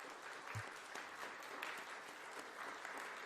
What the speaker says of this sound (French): Donc applaudissez-vous, n'hésitez pas.